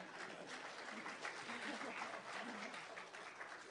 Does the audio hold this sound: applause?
yes